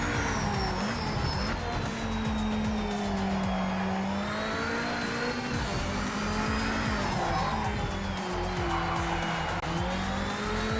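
Tires squeal and skid as a race car's rear slides in the Project Motor Racing video game, with a loud engine droning underneath throughout.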